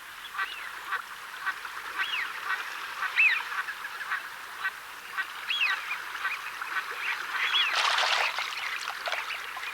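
Shoveler and tufted ducks at the Slimbridge wetland reserve, with many overlapping honking and quacking calls from a busy waterfowl flock, moderately near, continuing throughout over a broad wash of outdoor noise.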